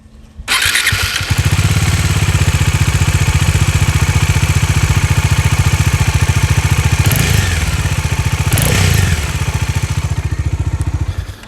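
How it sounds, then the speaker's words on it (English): A Bajaj Dominar 400 BS6 motorcycle idles steadily and close up, its engine note carrying a fast, regular ticking tappet clatter throughout, alone without talk. "there is a bit of that tuck tuck tuck tuck tuck noise that comes"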